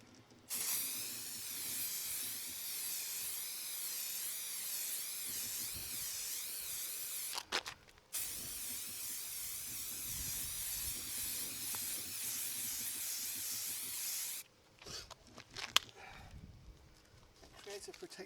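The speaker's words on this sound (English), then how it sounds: "Okay, now the clear coat. Silicone detailer," Long steady hiss of silicone detailer sprayed onto a restored car headlight, two sustained bursts separated by a short break, with brief handling noises after.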